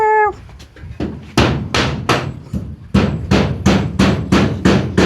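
Nails driven in a row with a hammer, a series of loud, sharp close strikes in two bursts, the second a quick steady rhythm of about eight blows, after a brief electronic tone at the start.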